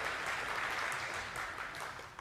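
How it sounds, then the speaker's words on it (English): An audience at a lecture about DNA and intelligent design applauds, a steady patter of many hands clapping, soft and somewhat distant, holding for the whole stretch before easing slightly at the end. "I've never gotten applause for messing up a visual aid before"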